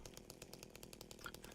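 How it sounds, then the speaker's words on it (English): A chainsaw engine in a Chainsaw Man video game buzzes with a rapid, rhythmic pulsing rasp, steady and moderately loud through the whole short stretch. "it'll never hear the fucking chainsaw"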